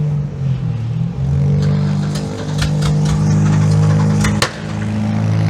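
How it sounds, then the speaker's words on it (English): A mid-1990s Ford F-150 pickup at a demolition derby is cranked hard to start, its engine churning and catching in loud, uneven bursts close by. "Sounds like it's being quick started almost to death."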